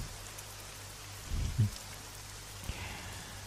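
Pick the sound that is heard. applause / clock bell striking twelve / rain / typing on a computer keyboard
rain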